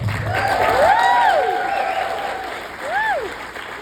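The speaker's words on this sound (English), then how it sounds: "just by your cheers and applause, how do we do today so far?" An audience at a talk cheers and applauds, with bright whooping voices rising over steady clapping that swells and then eases before a second burst of whoops near the end.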